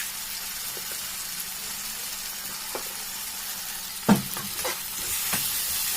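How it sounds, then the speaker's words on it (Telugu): Fried rice with chilli sauce and soy sauce is stirred in a hot pan, giving a steady sizzle with a few sharp scrapes and clinks of the utensil near the end. "సోయా సాస్ కూడా వేసేసిన తర్వాత ఇవన్నీ బాగా కలుపుకోవాలి."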